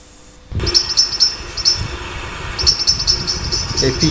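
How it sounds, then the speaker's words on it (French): Starlings and wood pigeons in a small town park, with repeated high, thin chirps and whistles in short bursts against a steady outdoor background hum. "les étourneaux, les palombes."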